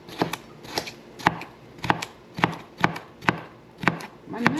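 Sharp knife chopping Scotch bonnet and sweet peppers on a cutting board while cooking creamy shrimp pasta, about ten crisp evenly paced knocks, close and clear, with no talk over them.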